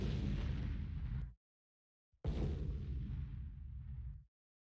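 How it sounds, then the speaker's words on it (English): Two booming explosion sound effects for a Unity timeline, each a loud full-band blast that holds briefly and decays over about two seconds, separated by a short silence. "Now we want to add the explosion sound effects."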